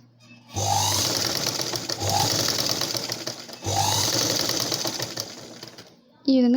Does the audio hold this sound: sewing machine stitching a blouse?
yes